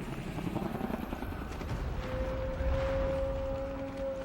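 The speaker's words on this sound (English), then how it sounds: "we can still bonk into this helicopter, and that would be not good" Helicopter from the Shadow of the Tomb Raider game: a continuous, close rotor thrum and whine with a rising tonal note partway through, no talking.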